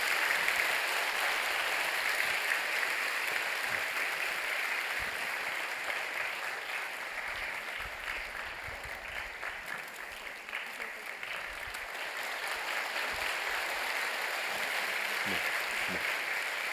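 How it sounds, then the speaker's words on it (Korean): A church congregation applauds during a Sunday worship service, a long, steady wash of clapping filling the sanctuary at moderate distance with scattered voices mixed in. "우리 권사님들 우리 축복하는 뜨거운 박수를 우리 보내주시고"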